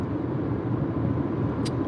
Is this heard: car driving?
yes